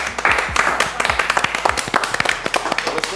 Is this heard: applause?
yes